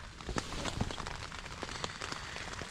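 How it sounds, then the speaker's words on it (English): Steady rain at a roadside campsite during a long-distance bike tour, a dense, even patter of drops striking nearby surfaces with scattered sharper taps, continuous throughout. "It is raining a good bit here"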